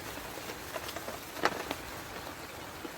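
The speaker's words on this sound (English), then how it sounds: "Jeez, that rain's coming down now." Rain falls steadily on a bushcraft camp, a soft continuous patter with a few sharper drops hitting nearby surfaces.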